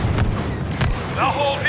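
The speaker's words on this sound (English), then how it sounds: "Grenade out!" A grenade blast in Star Wars Battlefront II during co-op fighting at Jabba's Palace on Tatooine, a couple of deep booming thuds amid battle noise, with voices breaking in just after.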